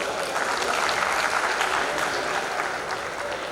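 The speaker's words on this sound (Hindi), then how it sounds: "सम्मान की तालियां बजा दीजिए" An audience at a Hindi comedy poetry event applauds in honour of a lyricist, a full, steady roll of clapping from many hands that fades slightly toward the end, with no speech over it.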